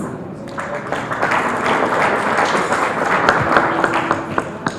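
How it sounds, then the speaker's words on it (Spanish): Steady audience applause at a senator's event as Antonio Yunes is welcomed; a dense room of clapping hands with scattered sharper claps, plus faint tones and murmuring underneath. "Recibimos con un fuerte aplauso a Antonio Yunes."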